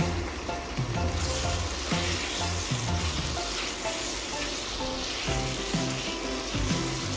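Beef and marinated liver for beef igado fry in a pan with a loud, constant sizzle, broken by the scrape and clatter of stirring; close and steady, with no talking.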